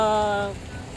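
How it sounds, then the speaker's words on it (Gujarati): Steady unseasonal rain hisses across a hard road surface, a sustained tone fading out during the first half. "દોઢ કલાકથી લગાતાર વરસાદ થઈ રહ્યો છે"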